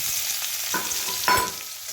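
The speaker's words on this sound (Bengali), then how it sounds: "পেঁয়াজটা লাল করে ভাজা হচ্ছে আর আরেকটু লাল করে ভেজে নেব" Chopped onion fries in hot oil with bay leaf in a pan for a spiced meat and potato curry, a soft, steady sizzle broken by a couple of sharper spatula scrapes.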